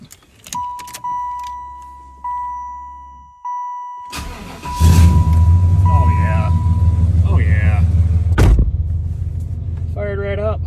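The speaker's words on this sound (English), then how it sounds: "Cold start on the Impala." Keys jangle and a car's door chime beeps repeatedly before a Chevrolet Impala's engine cranks and catches on a cold start, then settles into a steady, close idle while a person speaks briefly over it.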